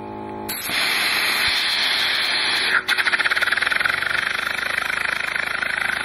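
A small steam engine running on compressed air from an air compressor starts with a loud, steady hiss, then breaks into rapid, even chuffing that continues close and strong to the end.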